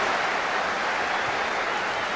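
Distant football stadium crowd at a Liverpool versus Newcastle match applauds a driven cross, a steady broad wash of clapping and crowd noise with no clear individual claps.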